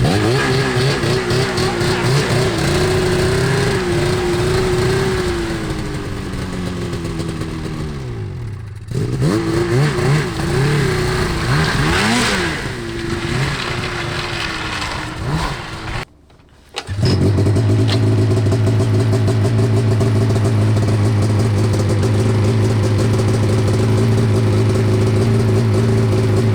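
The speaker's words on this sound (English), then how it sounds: "It's amazing how easy that Polaris starts." A Polaris snowmobile with an RKTEK 860 big bore engine, 146-inch IQR chassis, cranks and fires up loudly nearby, then idles and revs repeatedly with rising and falling engine pitch and a brief cut before settling into a steady idle.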